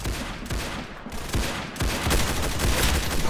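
Rapid gunfire in the Roblox game Arsenal, dense bursts of shots over a continuous noisy game mix, with no voices.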